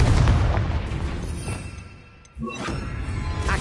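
A Confringo fire spell explodes in Hogwarts Legacy, a loud booming blast with a brief dip in sound before a second burst of crackling impact noise, with no talking.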